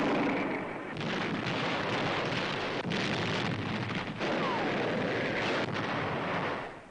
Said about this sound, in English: the 5th United States Marine Division fires on Japanese gun emplacements studding the mountain